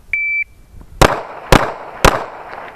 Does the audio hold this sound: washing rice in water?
no